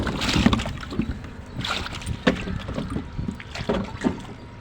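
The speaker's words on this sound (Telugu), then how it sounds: "ముందుగా కొంచెం వాటర్ వేసుకుని బాగా అయితే కడుక్కుందాం" Water sloshes and splashes inside a large plastic container as it is rinsed for a guppy fish setup, with uneven swirling surges, close and fairly loud.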